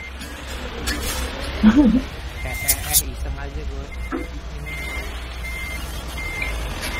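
Steady high-pitched reversing beeps repeat over a low truck rumble in Euro Truck Simulator multiplayer, while people talk casually over the top.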